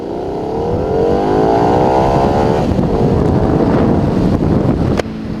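A 2011 Harley-Davidson Night Rod Special motorcycle accelerating in second gear, its engine note climbing steadily in pitch under heavy rushing wind noise, loud and close to the rider.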